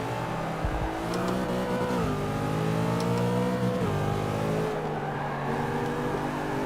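Engine of a racing car in Forza 6 driven with a Thrustmaster TX wheel, revving loud and steady, with pitch drops as it downshifts at about 2 and 4 seconds, running continuously close up.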